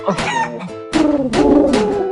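Cartoonish chicken clucks and squawks from the video game Bird Assassin, loud and close, coming in a quick burst and then a longer run of repeated clucks, with game noise beneath.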